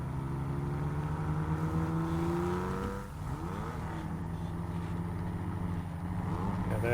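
A vehicle engine in the SnowRunner video game revs continuously, with droning tones that climb, dip sharply midway, then build and rise again, loud and steady without pause.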